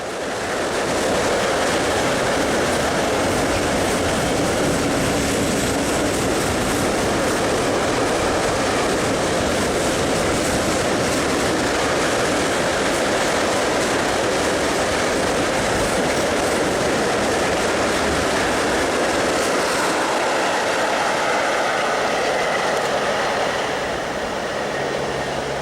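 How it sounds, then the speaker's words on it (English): Heavy train hauled by three Swiss electric locomotives rolling toward a tunnel, a loud continuous roar of wheels and clattering wagons that stays dense and close throughout, with faint wheel squeal and no voices. "Three Swiss electrics are at the head of this train about to enter the tunnel"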